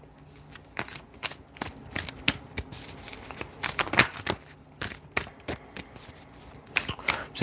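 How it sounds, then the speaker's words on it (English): Tarot cards shuffled by hand in repeated bursts of crisp riffling and soft slaps, close and fairly quiet, with no talking. "Just gonna go ahead and take the time and get the cards shuffled"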